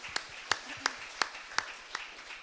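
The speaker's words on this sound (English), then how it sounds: "Let's give all of them a big round of applause." A few scattered handclaps ring out at a Sunday church service, roughly evenly spaced and fairly faint over a quiet room, more like a handful of people clapping than full applause.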